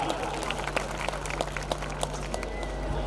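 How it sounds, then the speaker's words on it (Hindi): An audience in a stage program claps continuously to welcome a guest, a dense, lively patter of hands with some crowd murmur underneath. "जोरदार तालियों के साथ स्वागत कीजिए"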